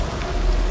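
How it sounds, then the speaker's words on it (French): Steady rain hisses in the video game Detroit: Become Human, a dense, even wash of falling water with a low rumble underneath. "Là on entend la vieille pluie dégueulasse"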